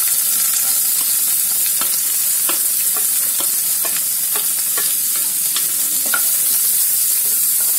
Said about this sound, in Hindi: प्याज को हल्का भूनना है।